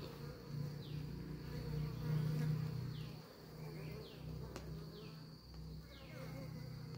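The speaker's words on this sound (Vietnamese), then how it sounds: "Đây mấy bạn học thợ, ong non đang đi tập bay." Honeybees at a hive, young bees practicing flight, make a steady dense buzz with passes of individual bees swelling and fading close by, under faint outdoor background.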